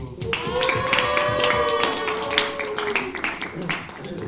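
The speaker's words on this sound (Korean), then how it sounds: "다들 모두 선생님 박수." Church youth group at a Sunday worship service applauds the teachers, a dense patter of claps from a roomful of people mixed with chatter and a sustained sung or hummed tone.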